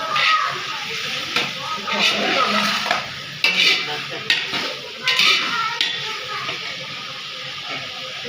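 Chicken frying with garlic and ginger in a pan, a steady sizzle and hiss broken by irregular stirring scrapes and clanks of utensils against the pot, close up, with someone speaking at times.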